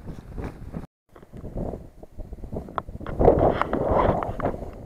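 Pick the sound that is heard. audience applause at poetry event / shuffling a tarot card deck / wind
wind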